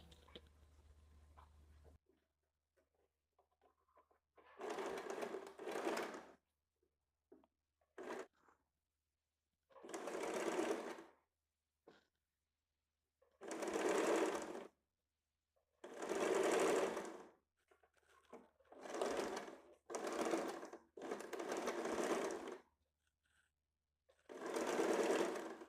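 A sewing machine stitches a size 32 high-neck blouse in about ten short whirring runs, each lasting a second or two, separated by quiet pauses. Faint handling noises come at the start.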